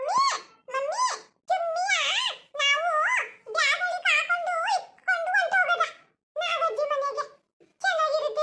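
A puppy gives repeated high, wavering whimpers and whines in short bursts with brief pauses between them, close and clear.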